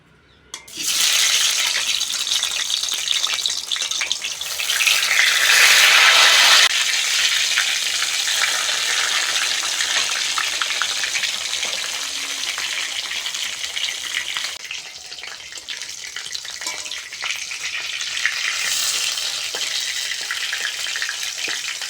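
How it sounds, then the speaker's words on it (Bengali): Eggplant pieces dropped into hot oil for deep frying, giving a loud, steady, close sizzle that bursts up at the start and hisses continuously for the whole stretch, easing slightly midway. "তেল ভালোভাবে গরম হয়ে গেছে বেগুনগুলো ভেজে নেব"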